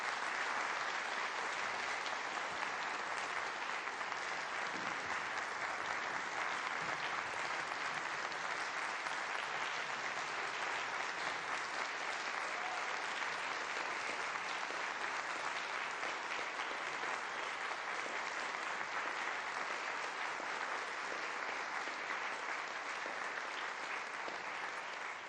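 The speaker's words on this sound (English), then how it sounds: "One more round of applause for these students." An audience at a town meeting applauds students, a dense, sustained round of clapping that holds steady for about twenty-five seconds with little else heard.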